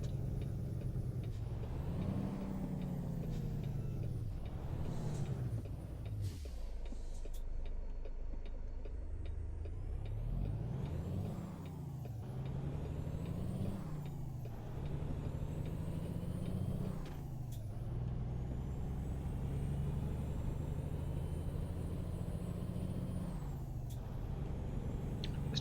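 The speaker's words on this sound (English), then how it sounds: "truck goes pretty good" American Truck Simulator truck engine rumbling loud and close, its pitch climbing and dropping through repeated gear changes, with sharp air brake hisses breaking in several times and no talking.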